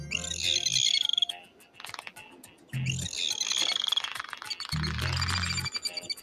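A dolphin gives a series of high, rapid whistles and chirps in two bursts with a short gap between them, moderately loud and close, with no speech.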